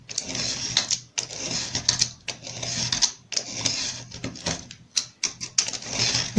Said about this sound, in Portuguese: vou colocar a régua bem na marquinha e vou passar aqui várias vezes o estilete